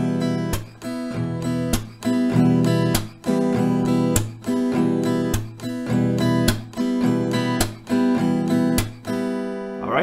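Steady acoustic guitar strumming in the rhythm of a song, a repeating down-up pattern with a percussive slap on the backbeat, played close and alone throughout.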